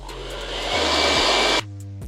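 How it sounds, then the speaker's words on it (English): Blow dryer blowing over the lace of a 360 lace wig during a glueless install, a steady close whooshing roar with a couple of shifts in pitch and a drop in airflow near the end. "I'm gonna take my blow dryer again, and I'm going to blow dry like over my lace."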